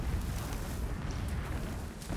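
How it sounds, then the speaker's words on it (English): Distant explosions rumble in a Horizon Zero Dawn game scene, heard as a steady low boom and roar that stays at an even loudness throughout, with no speech over it. "Explosions in the distance."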